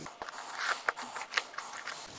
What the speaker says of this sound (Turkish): Bakın aynı boyda kesiyorum. Yırtıyorum. Bantlıyorum.